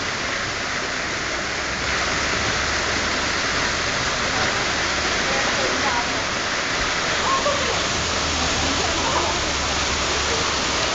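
A waterfall in the river otter exhibit at the Pittsburgh Zoo pours continuously, a dense, steady rush of falling water that stays loud and even throughout.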